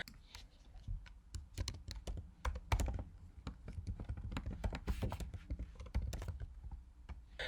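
Rapid typing on a computer keyboard, with bursts of close, crisp key clicks and taps that keep up an uneven rhythm for the whole stretch.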